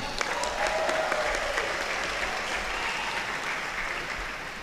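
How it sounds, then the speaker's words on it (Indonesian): A hall audience at a polytechnic student orientation breaks into steady applause, loud dense clapping that holds evenly for several seconds before easing slightly at the end. "Boleh tepuk tangan."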